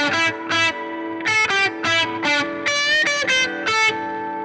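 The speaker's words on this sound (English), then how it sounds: "it's the unwanted open strings ringing out in sympathy with the notes that you're playing" Distorted electric guitar plays choppy bursts of notes while unwanted open strings ring in sympathy, a steady drone humming underneath and sustaining through the gaps.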